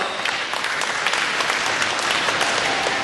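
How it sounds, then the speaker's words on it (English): Sustained audience applause at the Finney County Fair, a loud, steady wash of many hands clapping throughout without a break. "Give them a big round of applause."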